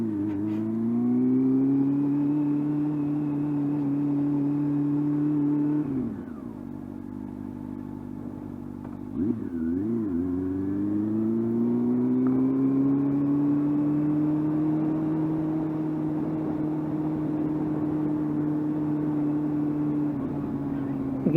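A beginner's motorbike engine drones high and steady while riding, close and loud. It dips sharply around gear changes, wavers briefly, then climbs back to a sustained whining pitch for the rest of the run.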